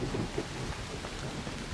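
Dense rumbling thunder with steady rain during an electromagnetic storm in the video game ARC Raiders, a continuous broadband wash close by with no talk.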